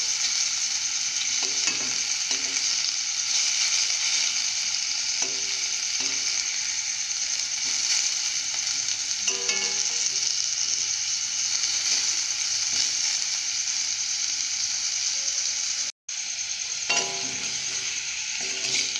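Potato pieces fry in hot oil until browned, a loud continuous close sizzle with occasional clicks and scrapes as pieces are turned, broken only by a brief dropout near the end.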